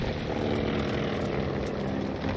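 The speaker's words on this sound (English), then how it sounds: "That's the plane." A Stuka dive bomber in Call of Duty: Vanguard roars steadily and loudly, its propeller engine drone filling the whole stretch without a break.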